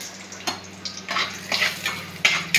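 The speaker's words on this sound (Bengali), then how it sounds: "এখন ভালো করে আমি বড়িটা পুরো লাল লাল করে ভেজে নেবো" Bori lentil dumplings fry in hot oil until deep red, a steady soft sizzle broken by repeated scraping stirs of a spatula against the pan, close and fairly quiet.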